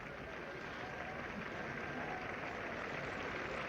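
Steady, broad applause from a cricket crowd at a 1973 England versus West Indies Test match, sustained and even throughout, with faint commentary-like voices underneath.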